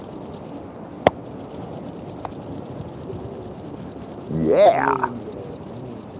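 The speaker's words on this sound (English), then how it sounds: "we're going to start with rubbing your hands together." Palms rubbing briskly together during a qigong class, a soft steady friction swell that builds briefly, with a sharp click earlier and a voice saying a single word.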